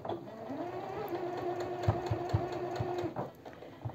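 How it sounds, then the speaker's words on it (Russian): A sewing machine stitches along the edge of a vest, its motor whirring steadily up close with a quick run of needle clicks before it stops near the end. "Вот, я буду строчить по внутренней лапке."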